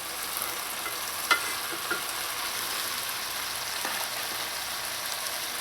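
Ackee being stirred into saltfish and vegetables frying in a pan, a steady soft sizzle with a few brief scraping clicks of the spoon, close and alone.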